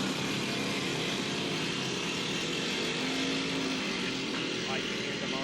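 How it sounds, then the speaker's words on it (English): Backyard go-kart engines rev and drone steadily as the karts lose grip on the back stretch of a dirt track, a loud continuous roar under commentary. "You hear the motors revving up where we're not getting any grip in the back stretch"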